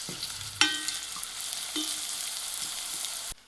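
Onions frying in hot oil in a pan while soft, sending up a steady crackling sizzle with a couple of sharp clanks from a spoon or pan near the start, then the hiss continuing alone until it stops abruptly.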